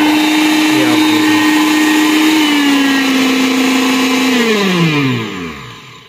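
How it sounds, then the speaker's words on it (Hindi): A Silver Crest blender with a large stainless steel jug runs at speed, a loud, steady motor whir that holds its pitch, then dips and winds down near the end. "ये मैंने बड़ा जग लगाया हुआ है, इसको मैं ऑन करता हूँ।"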